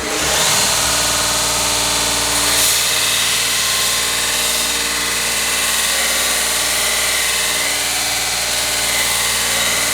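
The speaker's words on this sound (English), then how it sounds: "Slacken the belt on the 130 and kind of blend this now." A belt grinder runs with a slackened belt on a 130 machine, blending the surface of a hand-forged froe; a steady, loud motor whine and belt rush hold for the whole stretch, without talk.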